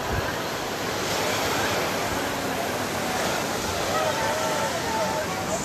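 Large ocean waves at Resende beach in Brazil roll and wash ashore as a continuous loud surf roar mixed with wind, and faint voices are heard beneath it.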